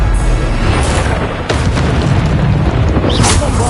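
A Bombarda spell explosion in the game Hogwarts Legacy, a loud sustained booming blast with heavy low rumble filling the whole moment, a sharper burst partway through, and no clear talk over it.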